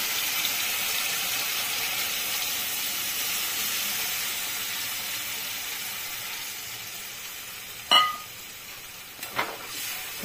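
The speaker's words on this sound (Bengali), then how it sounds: "এখন আমি জল অ্যাড করব।" Water is added to a pan of frying ridge gourd and potato curry, giving a long, even hiss that fades slightly, with a couple of brief clinks near the end.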